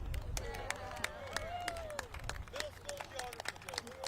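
Audience applause at a send-off party, a dense wash of clapping from a crowd, with talk and hubbub running underneath throughout.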